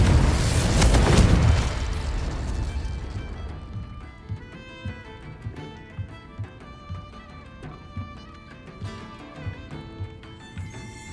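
A Confringo fire spell explodes in the Hogwarts Legacy video game, a loud broadband blast up front that rumbles and fades over a few seconds, followed by quieter rhythmic thumps and game ambience.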